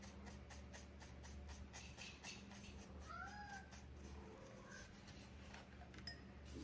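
A house cat meows a few times, soft and rising, somewhat distant in a quiet room with light clinking in the background and no talking.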